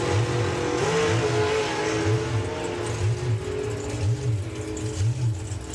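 Drag racing car with an Oldsmobile Rocket engine at a drag racing event, a loud rising engine roar with regular pulsing revs, heard close and steady with no voices.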